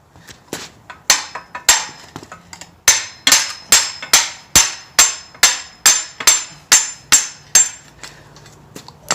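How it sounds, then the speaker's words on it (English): Steady series of sharp metallic hammer blows, about a dozen and a half, knocking a stuck fishing magnet loose, struck close by in a regular rhythm with brief ringing after each hit. "I'm going to have to just get a hammer and hit that off of there"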